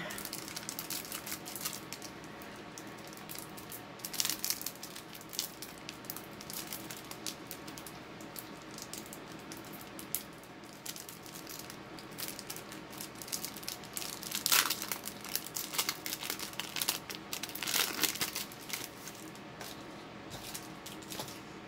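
Pokemon TCG Evolving Skies sleeved booster packs being handled and torn open, giving crinkly foil rustling and crackling bursts, quiet and close, with a few sharper tearing rips.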